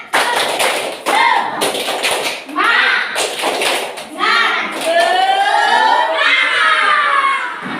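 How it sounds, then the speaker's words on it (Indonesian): A standing group of students in an Indonesian classroom performs a rhythmic spirit-clapping routine, loud and close, with bursts of patterned claps mixed with lively shouting and chanting voices throughout. "Bisa tepuk semangat?"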